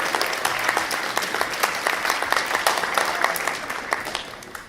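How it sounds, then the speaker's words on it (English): A crowd applauds steadily for a guest at a 2017 reading event, the dense clapping holding at an even level throughout. "Let's give another round of applause for Barry Radcliffe!"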